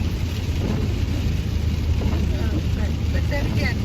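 Steady rain hisses against a car on a wet road during a forecast ice storm, with a constant low rumble of the engine and tyres beneath it.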